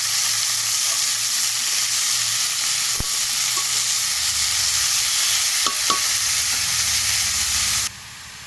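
Leafy greens sizzle loudly and without a break in a hot pan, with a few sharp clinks and scrapes from stirring near the end before the frying sound drops away.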